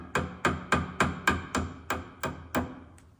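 A hammer taps a cotter pin into a castle nut on an early Bronco tie rod and drag link, nine sharp, evenly spaced metallic strikes close up, fading slightly toward the end.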